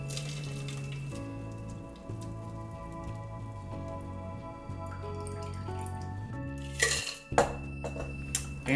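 Ice rattles hard inside a cocktail shaker as a daiquiri is shaken, a brief burst of clattering near the end over steady background music.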